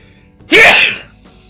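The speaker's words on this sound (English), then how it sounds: "I'm gonna sneeze." A game character in Persona 5 lets out one short, loud sneeze, a single sharp burst standing alone.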